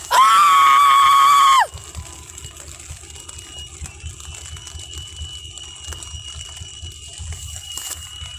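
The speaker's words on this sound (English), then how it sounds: "I'll scream again." A person lets out a single loud, sustained scream lasting under two seconds, then the clip drops to quieter background noise with faint tapping.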